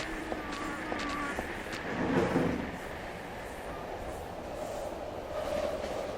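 A runaway train rolls along in the video game Silent Hill 3, a low rumbling rattle with faint metallic clanks and squeals. It stays steady and fairly quiet throughout, with a swell near the middle.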